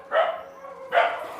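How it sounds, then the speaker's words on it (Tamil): Two loud, close dog barks come a little under a second apart, each a short, full bow-wow with no talking around them. "ஆனால் எங்கே இந்த இடங்கள்ல நாய்ப்பட்டி தான் கூடி போச்சு"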